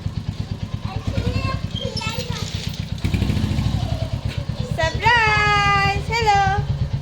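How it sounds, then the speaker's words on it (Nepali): A motorbike engine idles with a rapid, pulsing putter close by throughout, while people talk over it and a voice rises near the end. "बाइकको साउन्ड सुनेर उसलाई थाहा भइहाल्यो आउँदैछ भनेर"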